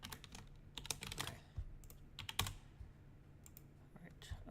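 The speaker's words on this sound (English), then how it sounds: "that's just my keyboard repeating characters" Computer keyboard typing in quick irregular bursts of sharp clicks, close and fairly quiet, with short pauses between runs of keystrokes.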